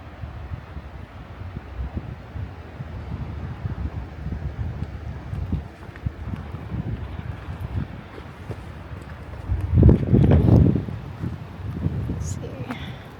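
Wind buffets a microphone outdoors on a chilly day, a steady low rumble that swells into a louder gust near the end while a voice talks over it.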